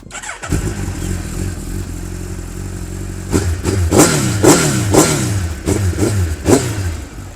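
A 2025 Suzuki Hayabusa sport motorcycle with a full exhaust system revs hard in a series of sharp throttle blips, each rising roar dropping back to a rumbling idle, loud and close.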